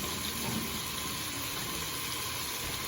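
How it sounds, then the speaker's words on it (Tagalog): Rice rinse water pours out in continuous splashing into a sink or basin, a close, even rushing with no breaks and no voices. "at itatapo natin yung tubig"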